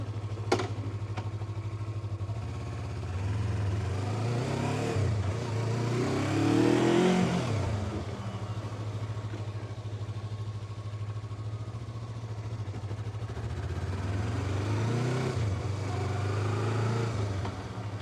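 A Yamaha R3 motorcycle engine runs steadily nearby, rising and revving around the middle and again near the end, a continuous low rumble throughout.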